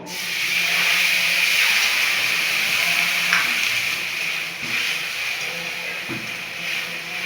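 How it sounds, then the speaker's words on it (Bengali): Water poured over fried moong lentils in a hot pan on a high gas flame gives a steady broad hiss that runs loud throughout and eases slightly toward the end, with faint scraping underneath. "এবারে ডালটা ভাজা হয়ে গেছে, এবারে জল দিয়ে দিলাম পরিমাণ মতো"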